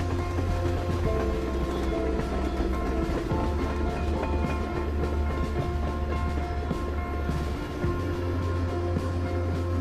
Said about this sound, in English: Hey Chloe, here's the train that's gonna kill you a bunch of times.